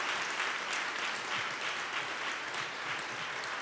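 Steady applause from an audience for a panel, continuous clapping at a moderate distance throughout.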